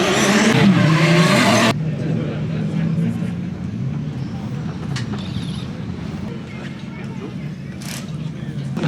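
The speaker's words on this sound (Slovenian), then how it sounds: "prvič da vidim roadsterja, da drifta" A roadster drifts at a night car event, its engine roaring loudly at first before settling into a sustained rumble with tire noise, crowd chatter and voices underneath throughout.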